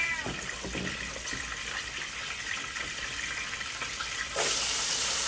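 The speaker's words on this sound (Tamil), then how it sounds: "நல்லா தண்ணி வடிகட்டிக்கோங்க." Steady running water pours and splashes over chopped eggplant being drained throughout, growing suddenly louder and broader near the end as more water rushes through.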